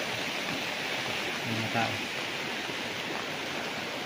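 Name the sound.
river flowing by a farm lot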